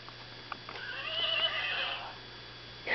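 A single horse neigh rises and falls in the middle, fairly soft and thin, with a few faint knocks just before it.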